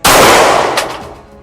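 A single loud, close gunshot from a custom Glock 19 pistol during test firing, a sharp crack followed by a decaying ring and echo.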